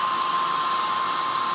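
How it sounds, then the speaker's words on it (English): Hair dryer on a low setting blowing into the headlight housing of a Dodge Ram 2500 to dry out trapped moisture, a steady close whooshing hiss with a constant whine, running alone without a break. "So what I did was I stuck the hair dryer in there."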